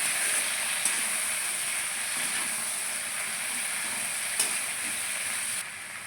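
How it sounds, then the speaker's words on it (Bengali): Raw banana and potato pieces fry together in a pan, giving a steady, moderately loud sizzle and hiss that holds throughout, with a couple of brief clicks and the sizzle easing slightly near the end. "কাঁচা কলা আলু একসঙ্গে ভাজছি"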